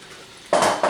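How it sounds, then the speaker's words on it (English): Peas tumble into a pot of risotto with a sudden clattering rattle against the pan, a short loud burst followed by a second smaller clink, close by and with no talk. "It is time to put in our peas"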